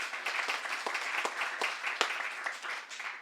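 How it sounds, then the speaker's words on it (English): An audience at a tribute to author Toni Morrison applauds warmly, a dense, even patter of many hands clapping at moderate distance, continuing steadily without talk. "Yes, let's applaud Beloved."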